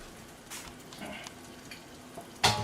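Garlic and bacon frying in butter: a soft, steady sizzle with faint crackles and occasional stirring, quiet and close, ending in a brief louder clatter.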